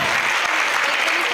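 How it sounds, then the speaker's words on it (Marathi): Loud, dense applause from a school audience for the nursery teachers, a brief burst of many hands clapping close by. "त्यांच्यासाठी जोरदार टाळ्या"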